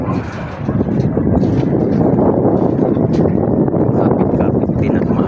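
Gusty wind outdoors rushes across the microphone in a loud, continuous low roar that builds after the first half second and holds steady, with a person speaking beneath it.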